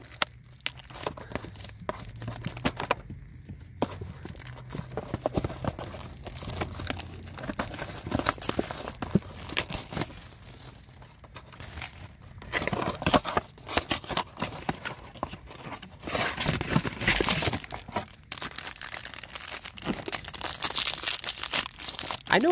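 Foil packs of 2022 Panini Prizm WWE trading cards from a blaster box are torn open and crinkled close up, with repeated ripping and crumpling and cards shuffled between tears.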